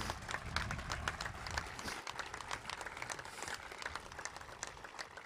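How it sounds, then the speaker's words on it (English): An outdoor crowd at a Memorial Day ceremony at the Mt. Soledad National Veterans Memorial applauds the Marine Band San Diego with dense, steady clapping that keeps going at an even level. "Can I get applause for them too, please?"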